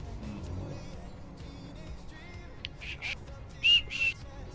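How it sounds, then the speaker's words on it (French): Over the steady hum of a truck cab, driving on the ProMods map in a truck simulator game, a couple of short, bright whistles sound near the end, with faint chirpy tones before them. "arrêtez de siffler"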